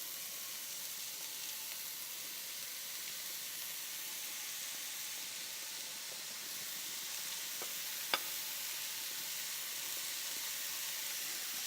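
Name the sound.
shallot and mushrooms sautéing in a pan, stirred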